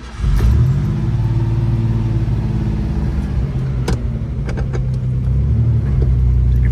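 A 1986 Ford Ranger pickup truck engine turns over and settles into a steady, loud, close idle rumble, with a few faint clicks and no talking.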